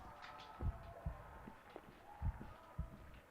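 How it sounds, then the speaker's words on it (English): Slow, muffled heartbeat thumps in the Call of Cthulhu: Dark Corners of the Earth game, several soft double beats spaced apart over a low hum, quiet and close. "His heartbeat is slowing."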